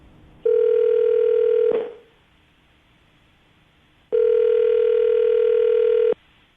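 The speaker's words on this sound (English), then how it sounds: "I'm going to dial the phone number" Steady telephone dial tone sounds loud and clear for over a second, stops, then after a silent gap returns for about two seconds, as a line is picked up on a morning radio show call.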